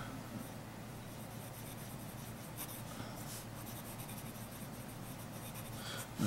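A Moonman M2 fountain pen with a medium nib writes steadily across paper, producing a soft, continuous scratchy rub that stays faint and even throughout, with no voices.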